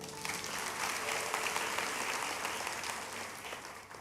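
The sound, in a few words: congregation applause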